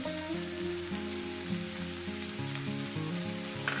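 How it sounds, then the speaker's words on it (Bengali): Dried fish masala with plenty of chopped coriander leaves frying outdoors by a riverbank, a steady continuous sizzle with a low tonal hum running underneath, no voices. "এটাকে আমি এইভাবে একটু ভেজে নিব"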